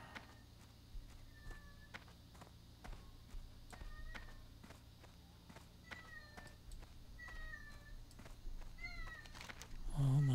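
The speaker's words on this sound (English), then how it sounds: "I do love that cat, but he is such a whiner" A male house cat whines with repeated short, rising meows spread across the stretch, faint and somewhat distant over a steady low hum.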